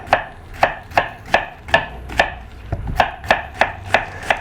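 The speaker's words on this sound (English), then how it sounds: "We're going to just cut it into slices" A knife cuts food into slices on a board in a kitchen, crisp close chops falling in a quick steady rhythm, about three a second, with no voices.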